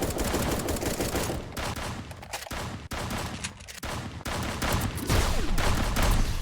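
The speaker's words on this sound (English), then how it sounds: "Why did I explode?" Explosions and rapid gunfire blasts in a video game, a loud, dense barrage of booms with brief gaps between bursts.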